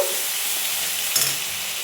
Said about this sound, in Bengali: এটা ভেজে নেব একটু।